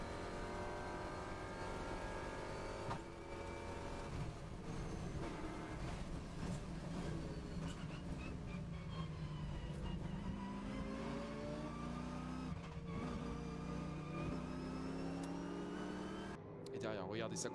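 Race cars on track, among them a Porsche 992 fighting for position, engines roaring and revving with shifting pitch as cars accelerate and pass close by, under a continuous talking voice.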